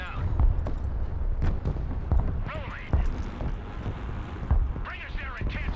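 Gunfire and explosions from the video game Broken Arrow crack and thud repeatedly under a busy battlefield din, with sharp bursts scattered throughout.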